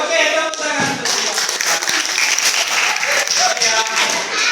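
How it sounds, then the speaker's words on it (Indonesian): A classroom audience claps for a student at a school, a dense burst of applause filling the moment loudly and evenly, with voices mixed into the clapping. "tepuk tangan untuk dia"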